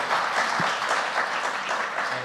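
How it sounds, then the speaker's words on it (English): An audience at a panel discussion on small businesses claps warmly for the panelists, a full, even round of applause with no talk over it. "Give one more round of applause for our panelists."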